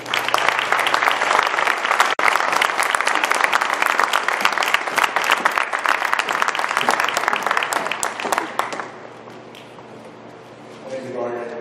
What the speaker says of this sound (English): So please give a huge round of applause for Stedman Graham.